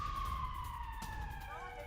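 Emergency sirens from fire brigade vehicles rushing to a missile impact site in Nevatim, Israel, after an Iranian attack, a steady wailing tone that sweeps and layers over constant traffic rumble.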